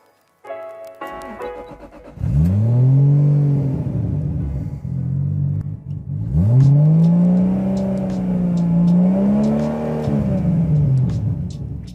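An old Toyota car engine fires up and revs hard twice under load, a loud, deep rumbling roar that rises and falls in pitch. It is close and sustained, with no one speaking.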